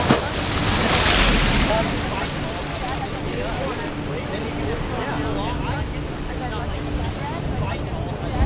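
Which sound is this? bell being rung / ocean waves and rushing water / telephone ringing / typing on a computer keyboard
ocean waves and rushing water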